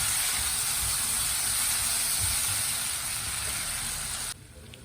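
Ginger, garlic and chillies fry on a medium flame with a steady, close hiss and sizzle that drops off suddenly near the end.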